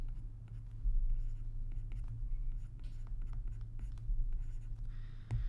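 Chalk or marker scratches and taps on a board in short, irregular strokes while a formula for an arithmetic series is written out, faint and close over a steady low room hum, with no talk.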